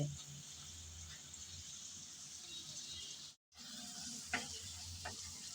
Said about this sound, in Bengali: টমেটোটা দিয়ে আবারও নেড়ে চেড়ে ভালোভাবে কষিয়ে নিতে হবে